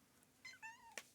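Pet cat giving a short, quiet two-part meow that slides downward, followed by a brief sharp click-like sound, indoors with no talk.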